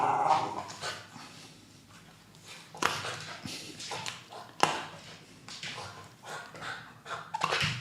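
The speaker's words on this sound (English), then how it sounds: "Also dog wanting to play." A pet dog whimpers and lets out short barks and yips, wanting to play, its sounds coming in irregular bursts close by indoors with no one talking.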